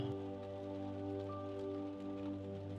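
Steady rain falling continuously, an even wash of drops over a low constant hum, with no voices or breaks.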